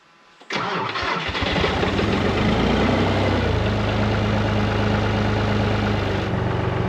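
A vehicle engine cranks and catches abruptly after half a second of quiet, then settles into a loud, steady close-up idle that runs to the end, with no voices.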